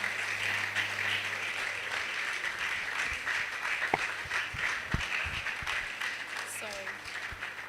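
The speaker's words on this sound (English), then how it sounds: "with another round of applause" Conference crowd gives a sustained round of clapping as a dignitary is welcomed on stage, a steady wash of many hands with a low hum beneath and a few louder thumps and knocks.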